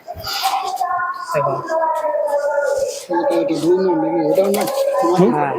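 A pair of Giribaz pigeons from Murshidabad coos in close, throaty, wavering calls, repeated in bursts while a person talks alongside.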